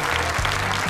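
Theatre audience clapping in welcome at a 60th-anniversary Semafor show: a brief, dense wash of steady applause from a large crowd, heard alone.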